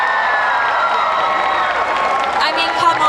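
A convention crowd at the San Japan cosplay awards applauds and cheers loudly and continuously for a prize winner, a dense wash of clapping and shouts with no pause.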